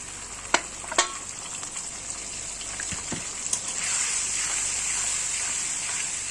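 A paste of ground green chili, cumin, salt and turmeric sizzles steadily in a pan with a soft frying hiss, broken by a few sharp spatula clicks and scrapes as it is stirred.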